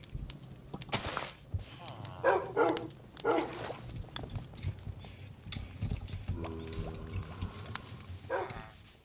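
A dog barks a few times in Minecraft, the game dog wearing a black collar; short yips and woofs rise over a busy background of game sounds and faint clip-clop, with no one talking.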